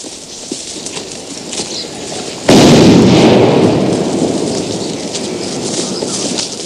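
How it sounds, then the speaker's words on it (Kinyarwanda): Bombs explode in a war scene from the 1994 Rwanda genocide: a sudden loud blast erupts into a long roaring rumble that slowly fades, over a background of distant crackling and noise. "Ibisasu byo bikomeje guturika."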